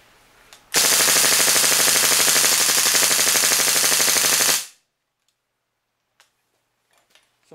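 Full-auto burst from an airsoft rifle fitted with upgraded trigger parts and spring guide, a loud, fast, even rattle of shots lasting about four seconds, then abrupt silence with a few faint clicks.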